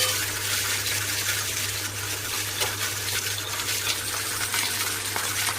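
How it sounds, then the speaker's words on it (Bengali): Fish frying in one pan beside spices being sautéed, heard as a steady low sizzle with a constant hum underneath, quite faint, and no one talking. "এদিকে মাছটা ভাজতে দিয়েছি, আর এদিকে হচ্ছে মশলাটা কষিয়ে নিচ্ছি"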